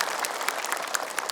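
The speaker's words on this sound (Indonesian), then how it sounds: "Boleh tepuk tangan ibu." Studio audience at an Indonesian religious television talk show clapping steadily, a dense, close burst of applause with no speech over it.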